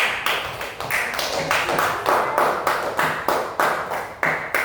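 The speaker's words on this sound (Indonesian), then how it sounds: "Oke, semuanya boleh tepuk tangan buat Raffi." Children in a fourth-grade Indonesian classroom clap together in a steady rhythmic pattern of about a dozen sharp, evenly spaced bursts, close and fairly loud.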